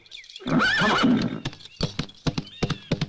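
A horse gives a loud, shrill neigh up close, then its hooves clip-clop in a quick, uneven rhythm as it moves off, with no one speaking.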